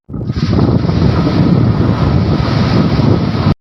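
Loud, steady roar of strong monsoon wind buffeting the microphone over crashing surf on a rough sea off the Patuakhali coast, Bangladesh, continuous and close, then cutting off abruptly.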